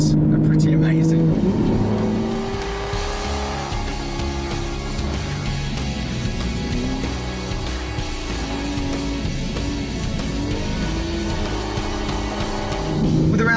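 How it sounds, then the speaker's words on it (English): A 565-horsepower V12 in an Aston Martin V12 Vantage S roars loudly and continuously as it pulls hard, its pitch climbing and dropping through gear changes, with someone talking over it. "the same 565 horsepower V12 engine, as you might imagine, performance with this thing is absolutely savage"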